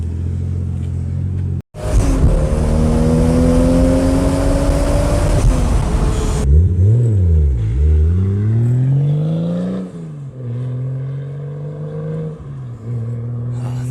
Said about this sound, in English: had a buddy meet us in his beautiful Mark IV Supra